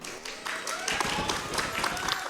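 A crowd at a speedrunning marathon event claps steadily throughout, a dense patter of applause mixed with voices talking and calling out nearby.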